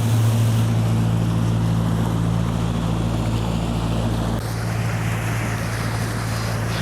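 A powerboat cruises on open water near Cumberland, Georgia, its steady low engine drone running under loud rushing wind and water noise throughout, with no talk.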